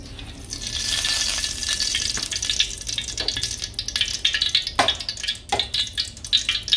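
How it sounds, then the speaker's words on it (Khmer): Corn is stir-fried in a pan with green onion, pepper, fish sauce and sugar, hissing and sizzling steadily while the utensil scrapes and clacks in sharp, irregular strokes, close up and with no talking. "តើឥឡូវយើងចាប់ដើមមកឆាពោតហើយ"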